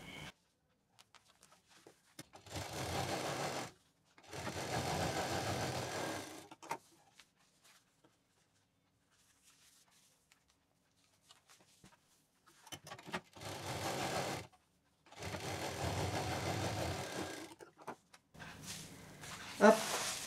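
A sewing machine stitching a velvet fabric bag runs in four steady whirring stretches of one to two seconds each, separated by quiet pauses.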